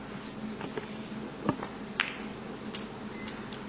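A single short electronic beep from a referee's time clock at a snooker match, over steady room ambience, followed a moment later by a faint click, with no talking.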